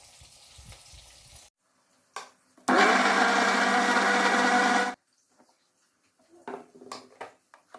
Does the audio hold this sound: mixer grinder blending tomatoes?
yes